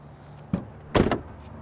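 A pickup truck's back door opening: a muffled thump, then a louder clunk of the latch and door a moment later, close and brief, with no talk.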